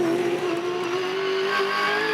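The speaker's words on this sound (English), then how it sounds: "He's sliding the car." A Repco Supercar sliding on the Adelaide street circuit, tires squealing in a sustained high whine over a loud, steady engine roar, close and continuous with no talk.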